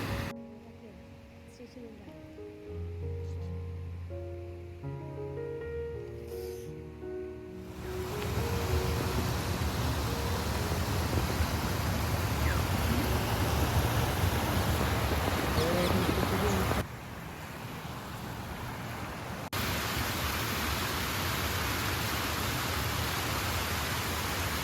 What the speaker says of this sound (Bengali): নদীর কুলুকুলু শব্দ ও পাখির কুজন মিলেমিশে একাকার।